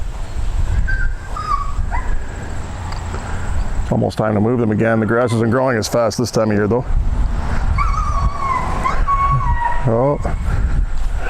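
A nearby hound dog breaks into a run of high, wavering whimpers and yelping barks for a few seconds, with someone talking before and after.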